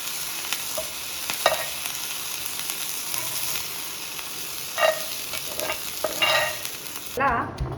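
Vegetables sizzle and crackle in a hot pan with salt and plenty of coriander as they are tossed, a continuous frying hiss broken by scraping stirs and bursts of louder sizzle, close and steady.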